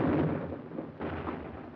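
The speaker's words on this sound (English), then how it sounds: "Our own artillery was brought to fall within 100 yards of our front-line elements" Artillery fire in a World War II battle at San Pietro, a heavy dull rumbling boom that rolls on, followed by a second muffled blast about a second later, distant and continuous.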